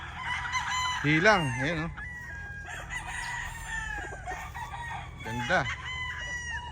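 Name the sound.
gamefowl roosters crowing, Python Gray by Black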